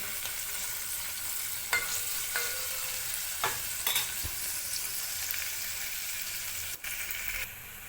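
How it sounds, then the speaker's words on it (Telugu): Onions sizzle steadily in hot oil in a pan while cooking for egg biryani, with occasional light scrapes and knocks of stirring over the continuous frying hiss, close and fairly quiet. "ఎర్రగడ్డలు కూడా కొంచెం బాగా మగ్గిన తర్వాత కొంచెం ఎర్రగా గోల్డ్ కలర్లో రావాలండి"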